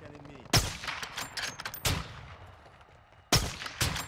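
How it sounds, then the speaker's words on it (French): Gunfire in the video game Warzone 2, a few sharp, loud shots separated by quieter stretches of scattered, distant-sounding pops. "Il y a des gens pas loin, j'ai vu des tirs."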